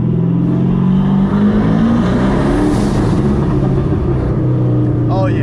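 Chevrolet Camaro engine and exhaust drone loudly and steadily inside a tunnel, with a booming low rumble that shifts in pitch, and a voice talking over it.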